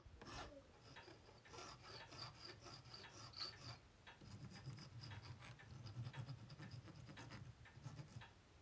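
A hand file rasps along the sharp cut edge of a copper pipe in a series of close, gritty strokes, short scraping passes that come in an irregular rhythm and sound fairly quiet, with no talking.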